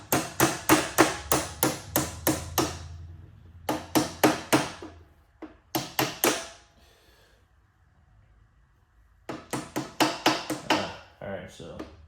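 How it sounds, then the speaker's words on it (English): A vice grip used as a makeshift hammer strikes metal in bursts of rapid, sharp, close blows, separated by pauses, while an air hose reel is being reassembled. "I think I'm gonna use a vice grip as a hammer."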